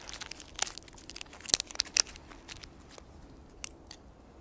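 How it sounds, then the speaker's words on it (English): Scissors snip and crinkle through the plastic packaging of a bivvy emergency sleeping bag: a few quiet, scattered clicks and rustles with short gaps, close but faint. "Try and cut this open without cutting my warmth sack."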